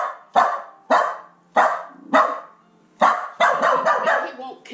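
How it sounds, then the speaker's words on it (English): A dog barks repeatedly at a door, loud and close, in a string of sharp separate barks that ends in a quicker burst; no talk in between. "does he bark at her like this?"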